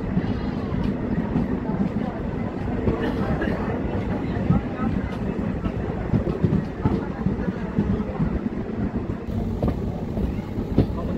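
A DEMU train rumbles along from Pandharpur toward Miraj in monsoon weather, a continuous loud rolling drone with faint rail clatter, and voices speaking over it.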